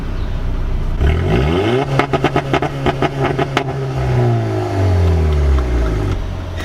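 Modified VW GTI MK6 on two-step launch control at full throttle, a loud droning engine hold broken by a rapid string of popping, stuttering bangs, then revs rising and falling away.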